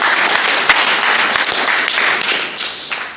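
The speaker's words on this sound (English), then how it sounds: "Can we have a round of applause for Toastmaster Venu?" Round of applause from a Toastmasters club audience for the meeting's Toastmaster, dense clapping at steady loudness throughout, with a few sharper taps standing out.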